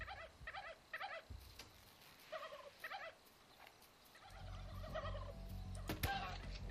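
Turkeys gobble in How to Survive 2, several quick clustered gobbling calls repeating in bursts over a low game rumble that grows louder near the end, with a thud at the close.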